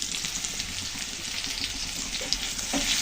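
Chili powder fries in a pan with vegetables for a home-style eel fish curry, giving a close, continuous sizzle with stirring scrapes and faint bubbling throughout and no voices.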